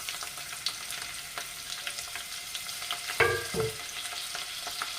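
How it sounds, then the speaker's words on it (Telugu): Green chillies and chopped onions frying in hot oil in a pan for a taro root (chamadumpa) stew, a steady soft sizzle with a louder burst of crackling as the pieces drop in midway, then settling back. "ఇంకా మనం ముందుగానే కట్ చేసి పెట్టుకున్నాం కదా పచ్చిమిర్చి ఇంకా ఆనియన్స్, అవి కూడా ఇందులో వేసేస్తున్నాం."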